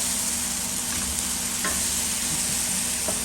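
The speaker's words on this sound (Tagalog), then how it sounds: "Niluluto ko na yung ampalaya." Bitter gourd (ampalaya) frying in a pan, a dense continuous sizzle with occasional soft scrapes of stirring, steady and close with no voices.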